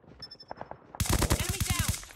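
An automated sentry gun fires in Call of Duty Mobile multiplayer, a rapid close burst of shots kicking in after a short spoken announcement.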